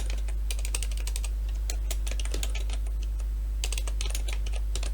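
Fast typing on a computer keyboard while entering text in Microsoft Word, in clustered bursts of crisp key clicks with short pauses over a steady low hum.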